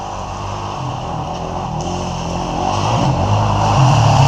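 Dirt bikes ride past on wet, muddy rainforest trails on Vancouver Island, their engines making a continuous drone that grows louder and closer toward the end, with no voices.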